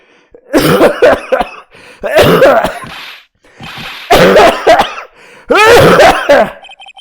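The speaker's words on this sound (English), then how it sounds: "Just try not to give me that cough of yours" Four loud, harsh coughing fits in a row from the video game Phoenix Wright: Ace Attorney, each a cluster of rasping barks separated by short pauses, close and clear with no talking.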